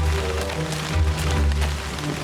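Heavy rain pours in a cartoon scene, a steady dense hiss with low rumble filling the short stretch, with no talk heard over it.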